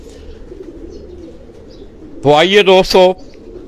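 Pigeons in caged rooftop lofts coo softly and steadily in the background before a voice breaks in loudly for about a second.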